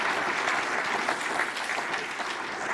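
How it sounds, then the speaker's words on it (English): An audience at a pro-life advocacy talk breaks into steady applause, a dense, even patter of many hands clapping at moderate loudness for a few seconds. "I think we can give God a round of applause on that one"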